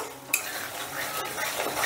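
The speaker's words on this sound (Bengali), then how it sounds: "এবারে এটাকে প্রায় আমি 4 থেকে 5 মিনিট কষে নেব" Masala for shahi paneer gravy is stir-fried in a pan: a brief spatula knock, then a continuous close sizzle and soft scraping over a couple of seconds.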